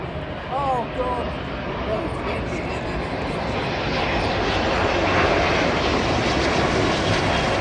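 An airliner landing on runway 09L at London Heathrow roars loud and close, its engine noise building steadily over the whole stretch. People can be heard talking nearby.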